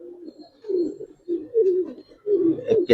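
A giribaz pigeon coos in low rolling phrases, several bouts in a row with short pauses, close and fairly loud, without any talk.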